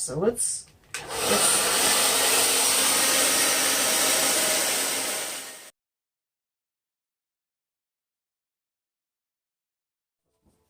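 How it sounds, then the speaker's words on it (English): A blow dryer fitted with a funnel runs on its cold shot setting, a steady loud whoosh of air for about five seconds after a brief spoken word, then cuts off into silence. "blow dryer that I've attached a funnel to, and it does have a cold shot"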